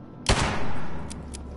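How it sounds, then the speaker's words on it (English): A single sharp gunshot cracks in the Fallout 76 video game, followed by a brief rumbling echo and a couple of faint distant reports. "I just heard gunfire."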